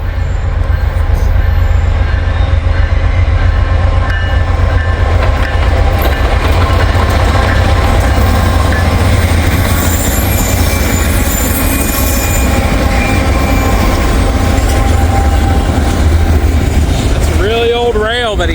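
A freight train rolls into a siding: a loud, continuous rumble of wagons with rhythmic wheel clatter, ringing metallic tones and squealing wheels near the end, heard close, with a voice talking over it.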